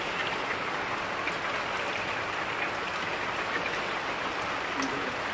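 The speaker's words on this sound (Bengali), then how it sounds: "ভালোই জোরে বৃষ্টি পড়ছে।" Heavy daytime rain falls steadily and loudly, a dense even hiss that continues unbroken throughout.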